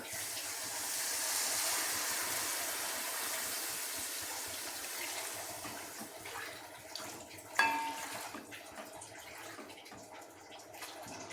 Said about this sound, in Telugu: 5:30 వాటర్ పోస్తాను.